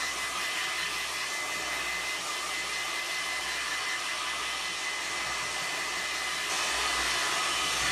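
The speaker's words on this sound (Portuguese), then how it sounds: "de secar um pouquinho com o secador para ela" A hair dryer blows continuously at close range, a steady whirring hiss that grows slightly louder near the end.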